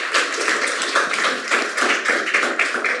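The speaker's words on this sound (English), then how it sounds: "Can we give these groups a round of applause?" An audience at a public talk about bees gives a round of applause, a continuous dense patter of many hands clapping, close and fairly loud, with no talking.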